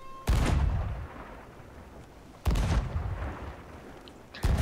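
Three booming cannon shots from a pirate ship in the video game Sea of Thieves, each a loud sudden blast followed by a long rumbling decay, spaced about two seconds apart.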